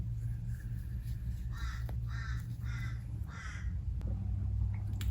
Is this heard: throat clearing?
no